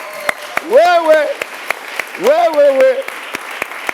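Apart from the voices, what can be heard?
applause and acclamations for the pastor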